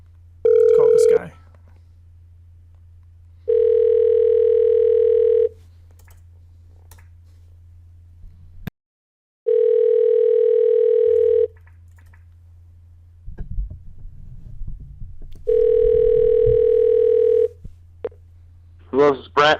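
A phone line rings out with repeated long electronic ring tones separated by pauses, with faint clicks and a low line hum between the rings.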